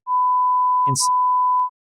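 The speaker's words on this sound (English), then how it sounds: "Nick, you got to beep out the names" A steady, loud censor bleep tone runs almost the whole clip, covering names in a conversation, with a brief burst of speech breaking through near the middle.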